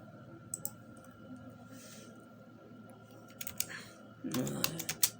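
A few sparse clicks, then a quick burst of computer keyboard keystrokes entering a command and Enter, close and fairly faint over a low hum, with a voice speaking quietly in the background.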